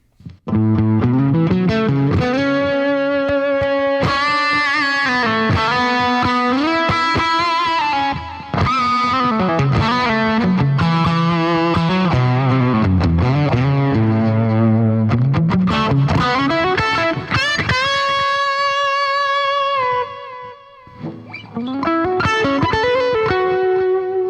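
Heavily distorted electric guitar, played through pedals and an amp, plays a loud, sustained melodic line with bends and held notes, thick and saturated, alone with no voices.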